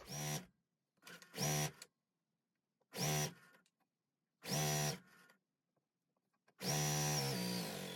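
A sewing machine stitching a white fabric strip onto a pink strip for quilt sashing, running in four or five short bursts of rapid whirring separated by silent pauses, the last burst the longest.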